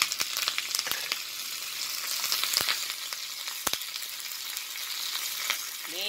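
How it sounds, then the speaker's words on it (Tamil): Curry leaves fry in boiling hot oil for tomato rice, producing a bright, close crackling sizzle punctuated by a few sharp pops and spatters. "இப்போ இந்த கொதிச்சுட்டு இருக்கிற எண்ணெய் இதையே இந்த கருவேப்பிலையை"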